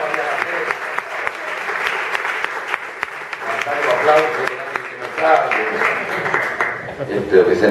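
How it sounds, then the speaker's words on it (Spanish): Sustained audience applause fills a hall during a humor talk at a book fair, a dense, steady clatter of many hands that holds for several seconds with a few voices mixed into the crowd noise. "Estos aplausos."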